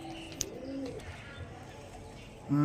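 Pigeons kept for tournament racing coo softly a few times, with a sharp click and faint background noise, then a louder, closer coo rises at the very end.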